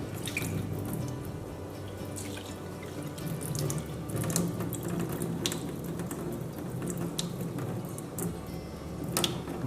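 Hot tofu cooking water poured off into a kitchen sink, a steady broadband splashing rush with scattered drips and clinks, continuous for the whole stretch.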